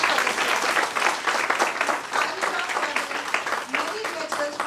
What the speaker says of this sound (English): Please have a great round of applause for the spirit.